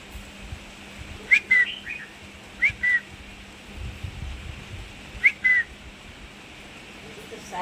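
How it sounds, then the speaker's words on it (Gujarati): Small sparrow chirps come in short paired bursts, three separated groups over a low steady background hum. "જો દોસ્તો આ ચકલી બોલે છે"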